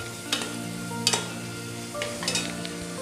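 Tomato masala for banana flower biryani sizzles in oil under a low steady fry, with a few sharp scrapes of a spoon stirring the pan and no voices.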